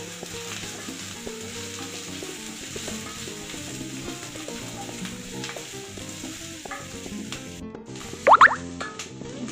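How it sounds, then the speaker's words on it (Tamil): Capsicum and mushrooms sizzling as they sauté in a pan for mushroom matar gravy, a steady close crackle with light stirring scrapes and a brief sharp clatter near the end. "இதுவும் நல்லா வதங்கட்டும். இப்போ நம்ம கொடை மிளகாய் போட்டுக்க போகிறோம்."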